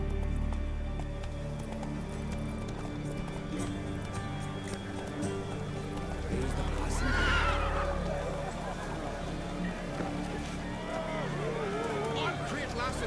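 Horse in The Witcher 3 game running and whinnying, a neigh rising around the middle over steady galloping and background game ambience, fairly close and continuous.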